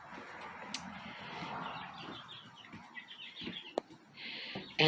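Hens crowding into a coop on a cold day chatter and cluck in a steady low murmur, with a few sharper chirps and brief squawks rising over the busy flock noise, close by.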